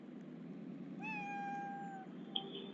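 A cat meows once in a Roblox snow simulator game, a single drawn-out tonal call rising then sliding down, clear over a steady low background hum, followed by a brief faint squeak.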